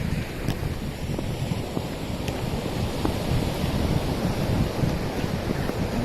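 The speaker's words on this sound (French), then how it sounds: "Les vagues." Ocean waves at Lamentin Beach wash in a steady surf roar mixed with strong wind buffeting the microphone, continuous and close throughout.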